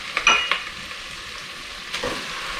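Tomatoes drop into a pot already frying onions and garlic, giving a brief clatter and sizzle, then a low steady frying hiss with one more soft stir near the end.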